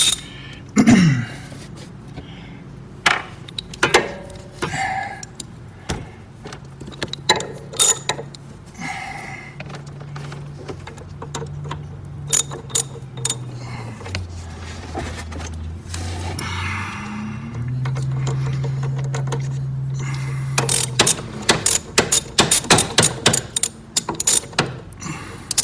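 A ratchet turns a 13 mm bolt during rack and pinion replacement on a 2013 Toyota Avalon, with bursts of quick clicking at close range, separated by pauses and a longer whirring stretch in the middle.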